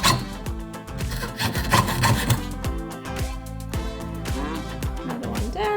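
A jeweler's saw blade cuts through sterling silver sheet at the bench while earrings are being made, giving a steady, close rasping with rhythmic back-and-forth strokes throughout.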